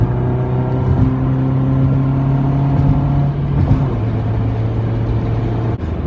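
A 1998 Honda Civic's 1.6-liter D16Y7 non-VTEC four-cylinder with a stock 1.5-inch exhaust idles then revs, a close steady hum that climbs in pitch before settling back, with no voices over it.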